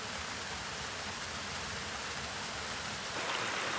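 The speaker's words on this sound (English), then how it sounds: "The waterfall behind the property is going full steam ahead." A waterfall and a seasonal creek rush during a storm, a broad, continuous hiss of falling water that stays even and moderately loud, swelling slightly near the end, with no talking.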